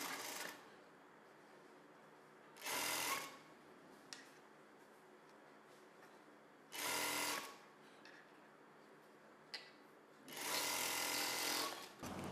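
An electric sewing machine joins blouse pieces in three short bursts of rapid stitching, with quiet gaps and a few light clicks between runs.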